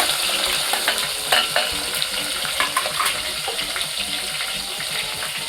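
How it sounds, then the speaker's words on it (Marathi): Chopped onions hit hot oil in a kitchen pan with a steady, loud sizzle and crackle, while a spoon stirs and scrapes through them at intervals. "तर कांदे घालते"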